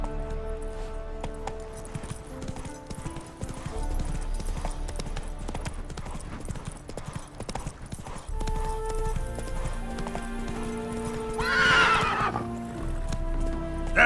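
Rhythmic hoofbeats of a horse galloping in The Witcher 3: Wild Hunt, steady clip-clop throughout with a whinny near the end, against game music and little talk.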